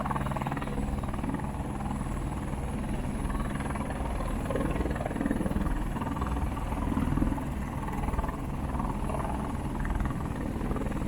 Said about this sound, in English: we're actually going on a helicopter tour